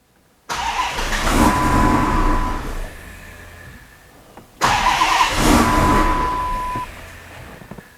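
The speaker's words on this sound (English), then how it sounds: "my very first attempt at actually trying to fire this vehicle" Twin-charged Hemi engine on its first start attempt: two bursts of starter cranking that catch into a rough, sputtering run, each fading into a low idle before dying away, heard close up with no talking.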